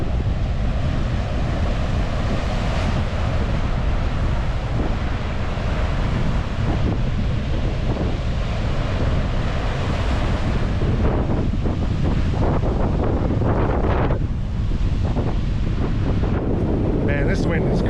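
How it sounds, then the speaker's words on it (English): Strong coastal wind roars across the microphone while heavy ocean surf crashes continuously on an eastern Florida beach during Hurricane Helene, loud and relentless throughout, with faint voices under the wind. "Man, this wind is crazy out here."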